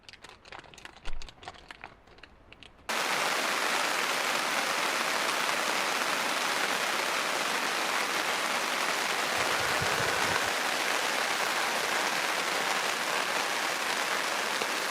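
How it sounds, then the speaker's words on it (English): After a few seconds of faint knocks, steady rain patters densely on a tarp overhead at a campsite in Bridger-Teton National Forest, a constant close hiss with occasional low thumps. "when it's raining and cold outside"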